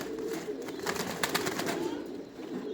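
Large pigeons coo softly and continuously at mid distance, a steady low murmur of several birds with no talk over it.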